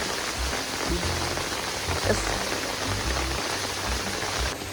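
A steady hiss of heavy rain with thunder falls continuously near Samode Palace in the Aravalli forest, dense and even, with low thumps of drops hitting nearby surfaces.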